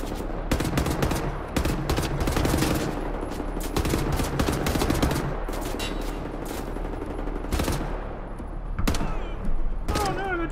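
Rapid bursts of automatic gunfire from the Wolfenstein shooter rattle almost continuously, loud and dense with sharp repeated cracks, and a voice breaks in briefly among the shots.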